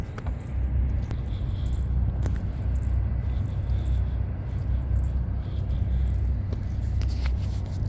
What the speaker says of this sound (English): I don't know if you can hear the jingle jangle of my socks